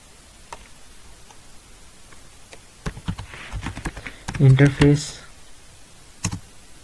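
Clicky computer keyboard typing router configuration commands, scattered keystrokes then a short quick burst, close and fairly clear, with someone speaking quietly between the taps.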